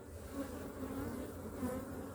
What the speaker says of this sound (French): Les abeilles, elles sont calmes.